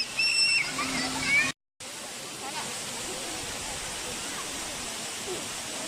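Waterfall at Tad Kaew in Laos roars as a steady broadband rush, close and loud, with a brief dropout near the start and faint higher sounds layered over the opening.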